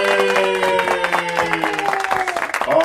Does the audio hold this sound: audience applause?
yes